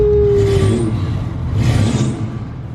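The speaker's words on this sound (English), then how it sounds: "Cold start." Nissan 350Z engine cold-starting, then revved in two rising surges of broadband roar over a steady low idle rumble, close and loud.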